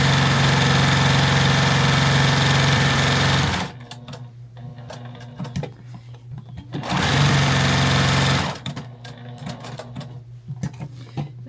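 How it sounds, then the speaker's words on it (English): A sewing machine stitches and back-stitches a patriotic fabric flag in two loud, steady bursts of motor whir, each a few seconds long, separated by quieter pauses filled with faint handling sounds. "I am going to do a little back stitch."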